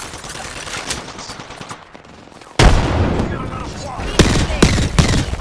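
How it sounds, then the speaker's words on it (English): Heavy gunfire in The Outer Worlds video game: loud bursts of repeated shots starting midway and continuing with sharp individual cracks, over steady background game noise and a voice talking early on. "I'm shooting right now"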